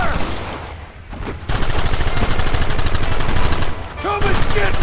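Heavy continuous gunfire from the Red Dead Redemption video game, many weapons firing at once in a loud, rapid, sustained barrage, with brief shouting voices over it.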